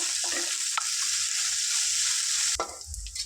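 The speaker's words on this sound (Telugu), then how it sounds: "వీటిని ఒక ఫైవ్ మినిట్స్ ఇట్లనే ఆయిల్లో ఫ్రై చేసుకోవాలి" Coriander leaves fry in hot oil in a home kitchen pan, a constant loud sizzle with brief stirring scrapes, ending in a louder clatter and shift in the frying hiss.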